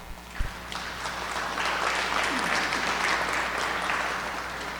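A seated audience at a public hearing about a school, applauding steadily for someone who provided refreshments, a dense, even clatter of many hands that holds at a moderate level through the clip, with no talking over it.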